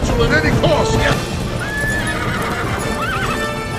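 A horse in the animated film Tangled whinnies over clip-clopping hooves and busy background music, with a person talking over it.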